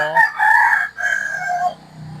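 A Rhode Island Red rooster crows one loud, close cock-a-doodle-doo of several drawn-out tonal syllables.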